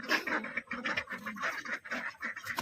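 Domestic ducks being let out quack and rasp in a busy, overlapping chatter, close by and continuous, with scuffling movement mixed in.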